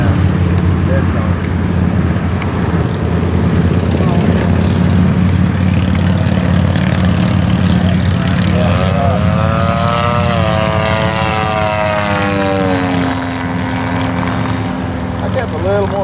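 A 50cc Revolver model airplane engine drones steadily and loudly throughout a flight, its pitch rising and sweeping as the throttle changes, with people talking over it.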